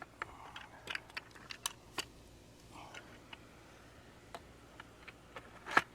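Plastic parts of a C-Tug kayak cart snap together in a series of quiet, sharp clicks at irregular intervals, with a louder click near the end and no talking.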